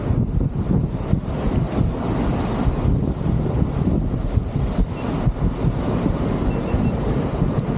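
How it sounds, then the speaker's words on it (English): Strong gusty wind roars steadily against the microphone aboard a Wahoo G-Force 1400 sailboat reaching fast under jib and double-reefed main in 26–27 knot winds over flat seas, with water rushing beneath; loud and continuous throughout, no talking. "27 knots of wind, just with the jib up, and 2 reefs in the main, going 16 knots."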